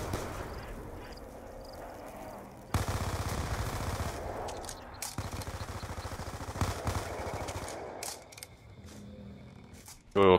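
Rapid gunfire aimed at zombies in a video game, with bursts of shots over game background noise, loud and close, continuing in uneven runs through most of the stretch.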